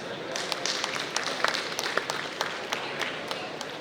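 Moderate crowd applause at a healthcare conference, a continuous patter of many hands clapping with a few sharper claps standing out.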